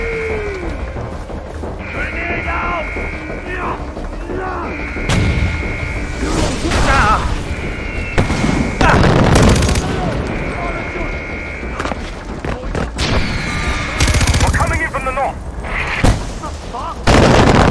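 Gunfire and explosive blasts from a Far Cry 4 battle at an outpost, loud and dense over a constant roar, with sharp bursts clustered mid-clip and near the end amid busy game ambience.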